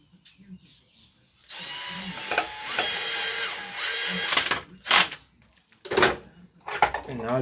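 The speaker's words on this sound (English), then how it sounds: "Now I have to first drill a hole nice in the middle here." A power drill bores a hole in the middle of a table top, a loud high whine running several seconds, then short separate bursts at the end, with brief talking between.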